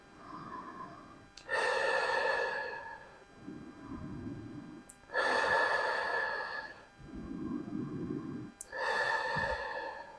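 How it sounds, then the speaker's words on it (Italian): Slow, deep abdominal breathing during a guided mudra exercise: long, audible inhales and exhales alternate in an unhurried rhythm, close and fairly loud, with no talking. "La respirazione, ricordo che è addominale, quindi lenta e profonda."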